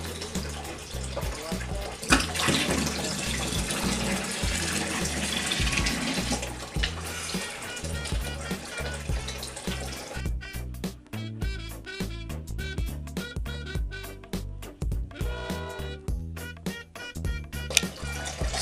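Water scooped with a cup from a Sulawesi water skink vivarium and poured out, a steady splashing, gurgling flow that continues for several seconds before breaking into rougher, intermittent sloshing pulses, close and fairly loud.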